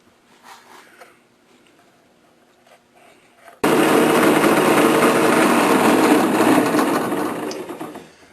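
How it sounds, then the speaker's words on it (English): A bench grinder is grinding down a circuit board edge, starting suddenly after a few quiet seconds as a loud, harsh, continuous grinding roar that fades slightly toward the end. "I'm going to start out with a bench grinder, removing as much as I can, and then I'll finish up with a"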